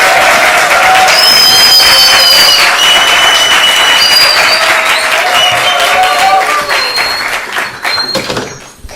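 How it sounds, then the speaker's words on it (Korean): Sustained applause from a lecture audience welcoming the speaker at an academy session, loud and dense, with faint whistle-like tones over it, fading toward the end. "강의를 시작할 텐데 박수로 환영해 주시면 감사하겠습니다"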